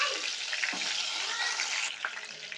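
Brinjals sizzle in hot oil with cumin in a pan for a masala curry, a steady close frying hiss with a few bursts of crackle and no voices.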